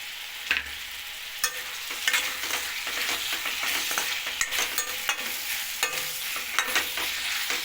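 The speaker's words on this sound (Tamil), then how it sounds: "லைட்டாக உப்பு போட்டு வதக்கிப்போம் கொஞ்சம் மாதிரி" Stirring and sautéing with salt in a pan while making tamarind curry: a steady close sizzle of frying with repeated spoon scrapes and clinks against the pan, no talking.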